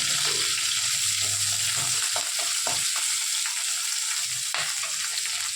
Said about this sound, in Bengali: এখন এর মধ্যে আমরা পেঁয়াজ ভেজে নেব